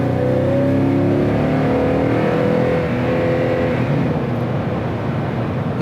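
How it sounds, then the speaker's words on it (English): A 2021 Toyota Tundra 1794 pickup accelerating from inside the cabin, a loud steady engine drone rising in pitch over several seconds, then easing slightly as it settles into a cruise. "Let me go ahead and accelerate."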